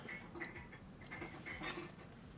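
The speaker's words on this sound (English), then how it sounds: "I think my daughter's doing dishes." Dishes are being washed in a room upstairs. Faint, scattered clinks of cutlery and plates come through at a distance, irregular and soft, with no talking.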